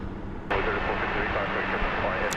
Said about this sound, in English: Flight 6148 going to Madrid. Airbus A330-300.